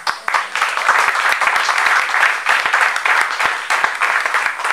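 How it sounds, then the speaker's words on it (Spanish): A crowd at the 76th anniversary celebration of the newspaper Tribuna Popular claps loudly and continuously, a close, crackling burst of many hands with sharp individual claps that stays steady throughout. "quisiera un aplauso para Tribuna Popular"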